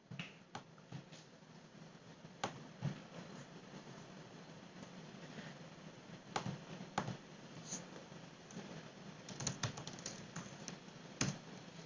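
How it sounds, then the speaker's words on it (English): Keystrokes on a computer keyboard while commands are entered for a robotics setup, heard as scattered sharp clicks and short bursts over a steady low hum, moderately close and fairly quiet, with no talking. "so you can type in all these commands"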